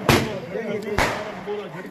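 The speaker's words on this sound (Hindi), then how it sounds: "खुद आतिशबाजी कर रहे हैं भाई।" Two sharp booming fireworks bangs about a second apart, loud and close, over a steady bed of crowd noise and voices at a street celebration in Daudkhel, Pakistan.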